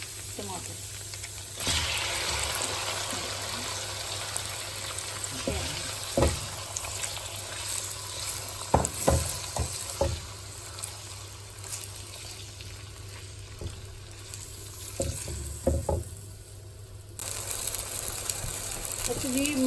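Chopped tomatoes fry in hot cumin-tempered oil for a dhaba-style urad dal tadka, a steady moderate sizzle broken by scattered clinks and stirring knocks from a utensil against the pan.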